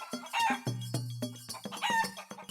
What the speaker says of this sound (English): the chicken seems excited to hear that